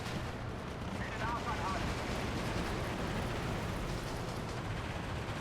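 Grenade blasts and gunfire in the Steel Division 2 WWII strategy game during a 10v10 multiplayer battle, a dense, steady roar of rumbling explosions and crackling shots with a few faint tonal calls mixed in, without pause.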